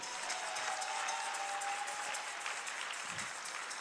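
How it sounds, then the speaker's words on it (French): A French-speaking church congregation applauds in worship, a soft, distant wash of clapping that runs evenly throughout with a faint sustained tone in the background. "Applaudis très bien pour le Seigneur."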